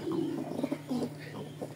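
Racing pigeons bought at a club auction coo softly and repeatedly nearby in a quiet room, low throaty phrases coming in short rhythmic bursts with brief pauses between them.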